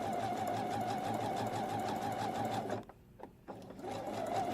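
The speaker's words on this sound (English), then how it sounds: "I'm going to gently guide it through the machine" A domestic sewing machine runs a zigzag stitch through stretchy swimsuit fabric for bikini bottoms, a steady close whir that stops briefly near the end and then starts up again, with no talking.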